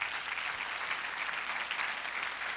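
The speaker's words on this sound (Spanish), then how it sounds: "Dele un fuerte aplauso al Señor" A church congregation claps together during a sermon, a dense, even burst of applause that holds steady throughout with no talking over it.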